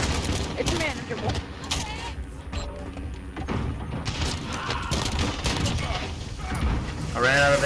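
Shotgun fire in Call of Duty: Modern Warfare from a 12-gauge, with heavy booming blasts and mechanical handling sounds in a busy battle mix, while someone talks over the action.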